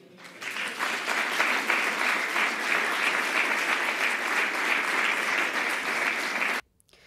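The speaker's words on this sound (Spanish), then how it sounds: "gran ovación a Cuca Gamarra cuando hablaba de Díaz Ayuso" A big ovation from a political crowd for Cuca Gamarra as she speaks of Isabel Díaz Ayuso, sustained, even, fairly distant clapping that swells in and then cuts off abruptly.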